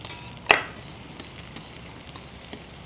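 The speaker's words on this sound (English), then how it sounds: "you'll want to stir in the onion and sauté that for a minute or so until the onion gets a little tender" Onion sautéing in melted butter gives a soft, quiet sizzle as it is stirred, with one sharp utensil knock against the pan near the start and faint scraping afterward.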